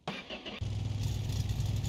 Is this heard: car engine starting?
yes